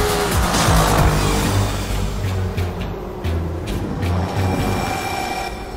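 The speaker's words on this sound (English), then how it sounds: "MotorStorm is brutal off-road racing in an apocalyptic environment." Off-road racing vehicles roar through an apocalyptic course in the video game MotorStorm Apocalypse, engines loud and continuous with tire noise and crashing debris filling the mix.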